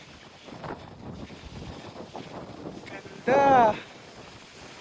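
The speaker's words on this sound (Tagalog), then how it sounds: "Lakas ng hangin." Strong wind sweeping across Mt Tapyas in Coron above the sea, a steady broadband rush buffeting the microphone throughout, with a person speaking briefly and a short louder voice burst near the end.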